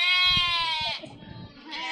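Sheep bleat loudly and close in a rural church Christmas nativity skit, one long wavering cry followed by a second shorter bleat, with a low rumble of voices beneath.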